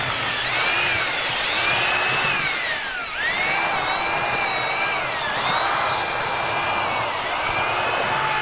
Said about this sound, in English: not only with the drill paddle that you're using and the type of drill that you're using